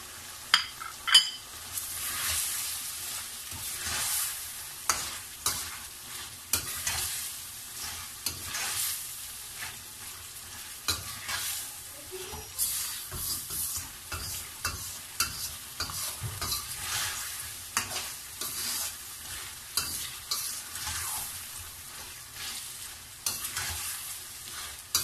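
Mutton liver frying with yogurt, ground garam masala and crushed black pepper in a pan, a continuous soft sizzle broken by repeated spatula scrapes and stirring clinks close up, no voices.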